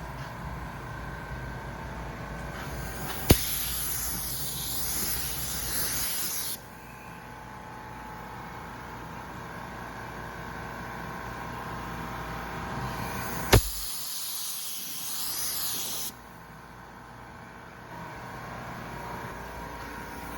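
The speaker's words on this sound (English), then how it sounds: "we're applying the second coat of clear" Aerosol clear coat sprayed onto a car headlight in two close, loud hissing bursts of several seconds each, each starting with a sharp click, with quiet pauses between.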